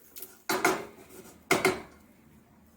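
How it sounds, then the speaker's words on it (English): A metal spoon knocks and scrapes twice against a pan of melting butter, each stroke a bright clatter followed by a soft fading ring in a quiet kitchen. "I'm gonna grab a spoon and give this a stir"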